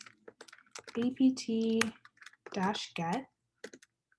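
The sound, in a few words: typing Dockerfile commands on a computer keyboard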